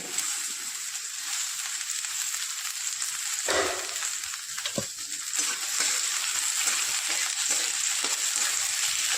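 Chopped onion sizzles and crackles steadily in hot oil, with a brief louder hiss partway through as it is stirred, close and continuous.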